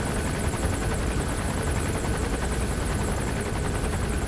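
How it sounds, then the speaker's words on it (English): A helicopter hovers overhead in the video game Metal Gear Solid 5: The Phantom Pain, its rotor drone a constant, dense whirring roar that stays level from start to finish, with no talk. "I really am not a fan of this fucking helicopter chilling out above me"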